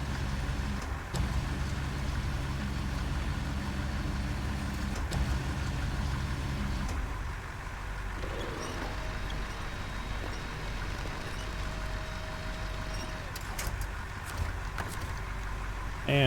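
A truck engine in the SnowRunner video game hums and rumbles steadily at idle and low revs, a continuous close drone that eases slightly partway through, with a faint whine and clanks later.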